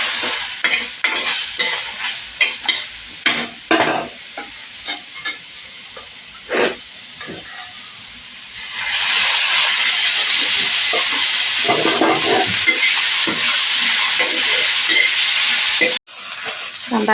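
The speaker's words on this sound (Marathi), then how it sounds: "आणि कांदा, टोमॅटो भाजून घ्यायचा आहे." Onion and tomato roasting in a pan, a steady loud sizzle and hiss that swells partway through, with occasional stirring scrapes and clinks of a utensil against the pan.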